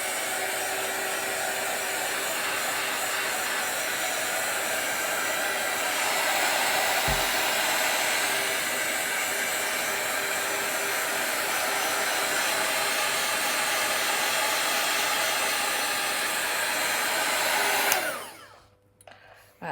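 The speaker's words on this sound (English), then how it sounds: "I will go over it a tiny bit with the heat gun" A heat gun blows over paint on paper, a loud close continuous rushing whoosh with a steady hum that holds evenly for most of the time before cutting off near the end.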